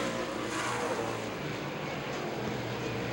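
Race cars at Baer Field Speedway driving into turns one and two, a dense continuous engine roar from several cars at once, loud and steady.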